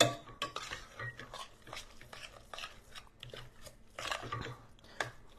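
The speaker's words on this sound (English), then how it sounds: "we're going to drop in a little egg at a time and just stir it up as quick as I can" A utensil clinks and scrapes around a pot as egg yolks are stirred quickly into a hot mixture for a spinach and ricotta roll-up, with light irregular taps and rubs close by.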